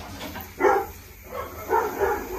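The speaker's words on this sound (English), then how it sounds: "Don't know what's going on out there with the dogs." Dogs bark outdoors in two separate bursts, the first around the middle and a second pair of yaps near the end, moderately loud over low background noise during a pond drum filter and pipework install.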